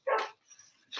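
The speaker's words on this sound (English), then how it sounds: "Excuse my dog barking. I had to lock him in the bedroom and he's not happy." A dog shut in a bedroom gives one sharp, muffled bark, followed by a faint whine and the start of another bark, heard from behind a closed door.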